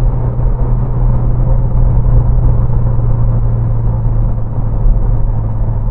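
A Renault Clio RS Trophy 1.6 turbo engine drones loud and steady from inside the car, a constant low rumble with only slight swells as the throttle is pressed and eased.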